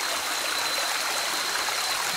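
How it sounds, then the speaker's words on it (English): Creek water on an island in Okinawa, Japan, a steady, close hiss of flowing and trickling water filling the whole moment without pause or voices. "Tonight we're trying to cross this creek."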